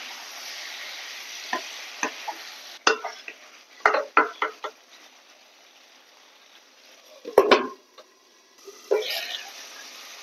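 Potatoes fry with cumin in a pan while a spoon stirs them, giving a soft steady sizzle broken by several sharp scraping and clinking strokes against the pan.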